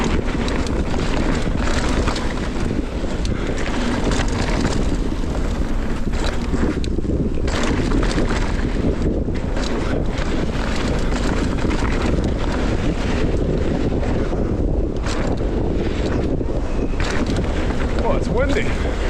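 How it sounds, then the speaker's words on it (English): Strong wind gusting across a mountain bike trail, buffeting the microphone with a loud, continuous roar that barely lets up for the whole stretch. "Windy."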